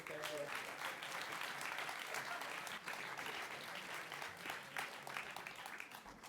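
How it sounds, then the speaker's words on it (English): An audience at a design talk applauds, a continuous patter of many hands clapping at a moderate distance, filling the whole stretch without breaks. "So let's give a round of applause again."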